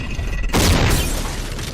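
Sudden sharp gunshot-like boom from a pistol rigged inside a door peephole as a trap, one loud close report with a short ringing decay afterward, no voices.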